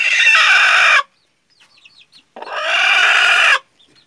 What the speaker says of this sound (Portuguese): eis uma galinha brava comigo. Ela está botando.